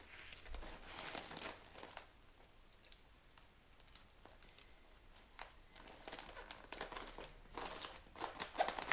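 Brown wrapping paper crinkles and rustles as it is folded around a small bunch of freshly picked flowers, a run of soft, close crackles and rustles with no talking.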